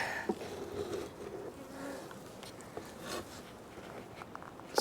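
Honey bees buzz around a heavy, full hive box, a steady swarming drone with faint clicks and knocks from handling the box.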